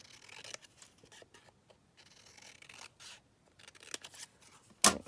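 Scissors cut out a small paper craft figure from a pocket kit in quiet snips and rubbing strokes, close and faint, with a sharper crisp snip at the end.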